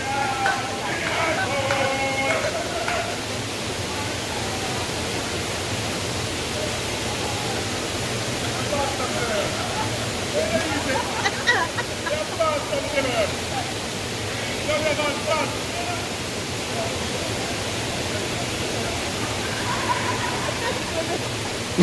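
Somerset Falls in Portland, Jamaica roars as a steady, loud rush of falling water, with people talking faintly over the continuous wash.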